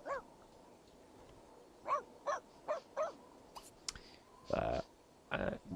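A dog in The Sims 2 gives a run of short, spaced barks and whimpery yips, fairly close and moderately loud, with a few clicks and a longer burst of voice-like sound near the end.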